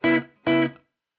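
Two short electric guitar notes or chords played through a Meris MercuryX pedal with barely any reverb, each ringing briefly and cutting off cleanly into silence, with only a faint trace of tail.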